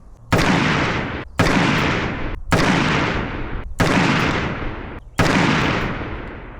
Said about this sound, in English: gonna shoot it unsuppressed, see how it does